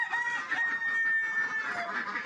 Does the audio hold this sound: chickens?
yes